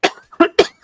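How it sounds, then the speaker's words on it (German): Three short, harsh bursts of coughing in quick succession, close and fairly loud, with brief gaps between them and no other sound. "Ja, Husten."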